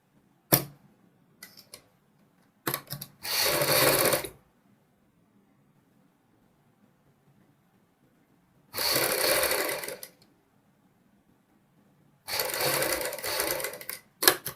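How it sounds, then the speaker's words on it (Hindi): A sewing machine stitches a lotus neck design on a kurti in three separate bursts of rapid whirring, with short clicks and quiet pauses between the runs. "अब हम इसमें इधर से भी सिलाई लगाएंगे।"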